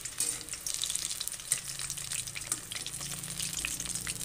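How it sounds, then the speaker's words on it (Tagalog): Eggplant slices frying in a pan of hot oil, a steady close sizzling hiss running throughout with small spatter crackles and no talking. "Prituhin lang natin yan guys"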